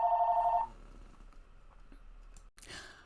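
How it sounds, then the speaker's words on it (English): Telephone ringing indoors, a steady electronic ring tone in the opening moment that cuts off, followed by quiet room sound and faint handling noise. "The phone rang."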